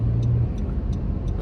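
Steady road traffic rumble heard from inside a moving car, a constant low engine and tyre drone with faint periodic ticking over it, no talk.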